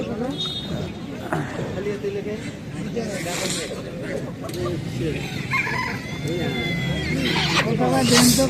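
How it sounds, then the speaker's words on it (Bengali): Chickens brought to a village market for sale, a rooster crowing and fowl clucking amid busy crowd chatter, with people talking nearby throughout. "একজন মুরগি নিয়ে আসছে তো আমার বাড়ির সাথে, তো মুরগি বিক্রি করবে"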